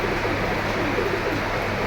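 A muffled, low pigeon coo drones briefly under a steady, fairly loud background hum.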